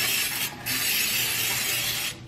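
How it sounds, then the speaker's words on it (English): Baker's Joy, a flour-containing cooking spray, hisses from the can into a metal baking pan in a home kitchen in two close bursts: a short one, a brief pause, then a longer steady spray. "I'm just gonna spray this pan."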